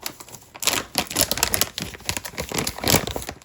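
Aluminum foil crinkled and crumpled by hand to cover a pan for savory onion chips, a close, dense run of crackling rustles with brief pauses, no talking.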